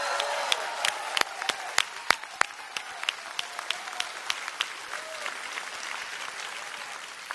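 An audience applauds at a DeKalb County Fire Rescue graduation ceremony for Class 113, with sharp, scattered hand claps ringing out steadily and fairly close over a low room murmur for several seconds.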